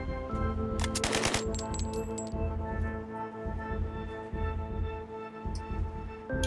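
Gunfire in the turn-based game Highwater, with a rapid burst of close shots early on followed by scattered single reports over a tonal musical backdrop.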